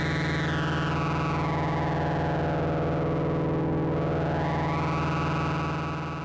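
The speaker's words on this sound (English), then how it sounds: "Let's go to low pass 1 here. This will be the least aggressive at only 6 decibels per octave." Reaktor Blocks Monark synth playing a sustained buzzy tone while its resonant 6 dB/octave low-pass filter sweeps down and then back up, the resonant peak gliding smoothly through the sound.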